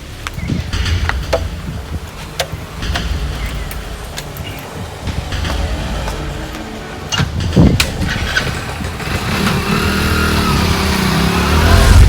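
A motorcycle engine running close by, a continuous rough mid-pitched drone that rises and swells in revs toward the end, with road noise and brief clatter mixed in.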